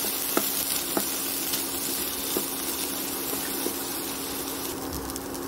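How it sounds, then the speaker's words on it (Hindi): Green peas frying in a pan give off a steady, quiet sizzle with a few faint clicks of stirring, without talk. "अभी मैं इसमें डालूंगी हरा मटर एक बाटी और इसको भी 2-3 मिनट तक के भूनूंगी।"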